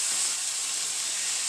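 Ginger sautéing in a pan over high heat gives a steady, bright hissing sizzle, even and continuous throughout the short stretch, up close with no talking.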